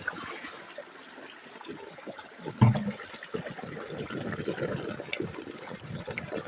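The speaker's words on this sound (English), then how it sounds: "you just see I poured a bucket in there just to show you, see if I could clog it, and I did not clog it" A bucket of sticky clay and water is poured into a gold sluice bucket feeder, giving a sudden heavy splash followed by irregular gurgling, dribbling and running water close by.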